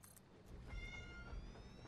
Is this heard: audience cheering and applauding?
no